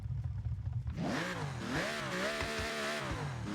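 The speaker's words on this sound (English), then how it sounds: "That sounds like a crazy engine." After a brief low idle rumble, a 7-liter V12 car engine in the Forza Horizon video game bursts into loud, close revving that swings up and down several times.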